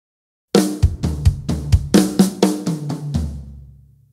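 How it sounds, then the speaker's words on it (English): A rock drum fill played in triplets from a song: a fast run of about a dozen punchy tom and snare hits that ends on a ringing crash, loud and close, with no talking. "The second fill-in, which is shortly before the outro, is played in triplets."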